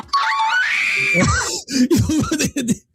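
A woman lets out a long, high excited scream that breaks into shrieking laughter and squeals, very close and loud, ending in short breathy bursts.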